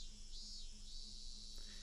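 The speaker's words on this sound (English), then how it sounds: "The cicadas made an annoying fuss." Cicadas in the video game Higurashi When They Cry keep up a steady, dense insect drone at low level, a continuous high chorus without breaks and with no voices over it.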